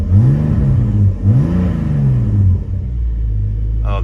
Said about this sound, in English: give it some revs, maybe just some cold revs